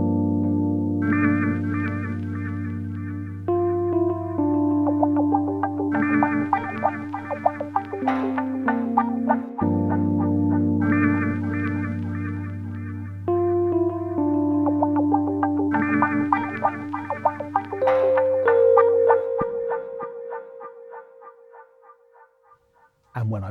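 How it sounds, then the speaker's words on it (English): A looping electric guitar and electric piano groove with echoing tape-delay repeats, steady and full, trailing off into a fading delay tail at the end. "So what I've got here is I've got my guitar and I've got another bit of guitar"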